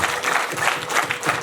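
An audience clapping together in a short continuous burst of applause, dense and fairly loud, with no voices standing out.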